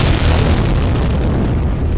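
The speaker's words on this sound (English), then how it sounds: "What the hell was that for an explosion?" A loud, booming explosion in the video game Vampire: The Masquerade – Bloodlines fills the whole moment with a dense, rumbling roar that holds steady before easing slightly at the end.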